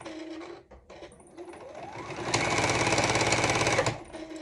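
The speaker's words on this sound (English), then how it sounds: "press a foot down, and I continue sewing it" A sewing machine stitches binding onto a quilt edge, starting with a brief hum, then running in a loud steady rapid whir for about a second and a half before stopping.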